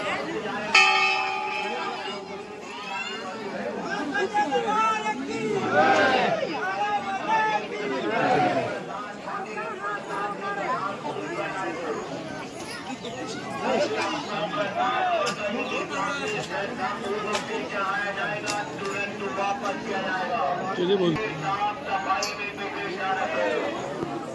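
Crowd chatter at the Maihar Devi temple, a steady murmur of many voices filling the space, with a bell ringing near the start and occasional louder calls rising over the babble.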